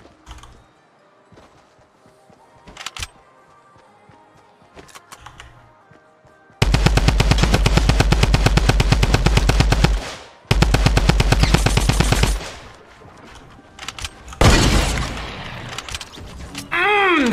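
Loud automatic gunfire in a Fortnite Battle Royale match: two sustained rapid bursts, each several seconds long, followed by shorter shots, with quieter game sounds and a few voice moments in between.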